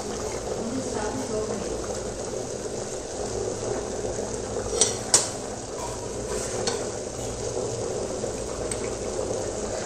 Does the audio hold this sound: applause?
no